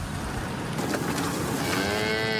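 Cattle mooing at a large Colorado feedlot holding thousands of head, dense overlapping lowing calls from many animals over a constant broad herd din, no talk.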